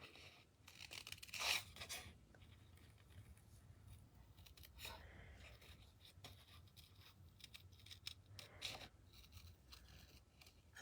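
Scissors snip through paper while making a card, giving faint, close, irregular cuts and rustles with a sharper crisp burst near the start and scattered snips after that.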